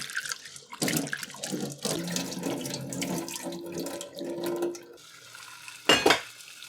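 Dal lentils are rinsed in water at a kitchen sink, with a tap running and water sloshing and swirling against the pot, close and fairly quiet, ending in a brief louder splash.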